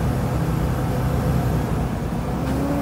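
A loaded Volvo FM370 bitrain truck rumbles with a heavy low diesel drone while the driver downshifts. The engine rolls on steadily from the cab, with a faint pitch change near the end.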